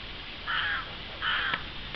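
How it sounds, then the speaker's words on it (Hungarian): A crow caws twice beside a boating pond in Gyula where wild ducks gather, each harsh call lasting about a quarter second and standing out moderately against a soft outdoor hiss. "Kár, mondja az a madár"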